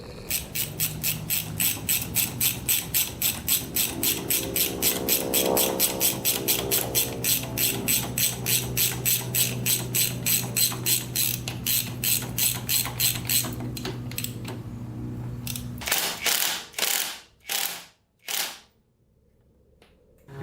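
Ratchet spinning a head bolt into a Yamaha Warrior 350 quad engine: a rapid, steady run of close pawl clicks, then a few slower, heavier clicks as the bolt seats.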